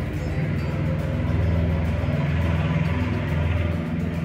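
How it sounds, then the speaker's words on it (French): A licence-free microcar's small engine drones steadily and loudly while driving, a continuous low rumble with a faint periodic pulsing and no voices. "les voitures sans le permis font plus de bruit que les voitures"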